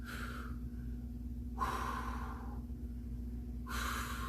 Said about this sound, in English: Focus on deep breathing here.